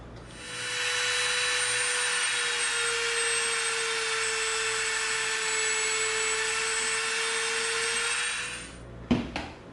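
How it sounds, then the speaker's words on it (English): A Dremel rotary tool cutting into a prop Avatar RDA pistol gives a steady high-pitched whine for about eight seconds, then stops, followed by a couple of sharp clicks. "we got to move over a little bit when we come in with our Dremel"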